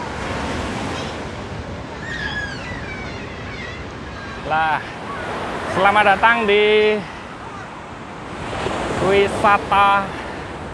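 Ocean surf washes steadily at Wediombo Beach in Gunung Kidul, a constant broad rush under wind while someone talks and other voices pass nearby.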